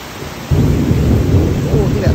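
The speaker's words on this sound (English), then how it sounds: "It's raining for the first time." Heavy rain and rumbling thunder at a Sentosa beach resort, a steady downpour that swells louder after the first half second and holds as a dense, continuous roar with no talk.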